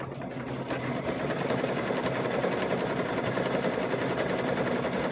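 A sewing machine stitches across a quilted mug rug, its rapid steady needle chatter running continuously and close for the whole stretch after a brief start.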